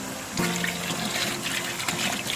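Water and vinegar poured into a pot for steaming blue crabs, a short splashing, gurgling pour that starts abruptly and continues steadily to the end.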